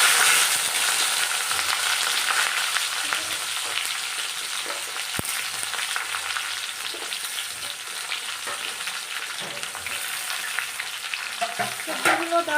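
Vegetables for shukto fry in a pan with panch phoron and dried red chilies, giving a continuous bright sizzle with occasional stirring scrapes and no talk.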